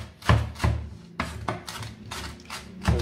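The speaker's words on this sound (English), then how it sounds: "give them a little choppy chop" Knife chopping air-fried onions on a cutting board, a series of about eight crisp close thuds in an uneven rhythm with soft scraping between strokes and no talking.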